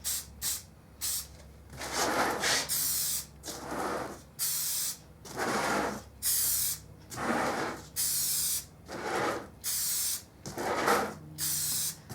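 Spray paint mists onto a stainless steel tumbler in about nine separate hissing bursts, each lasting roughly a second, separated by short pauses. The spray is close and fairly loud, with no talking.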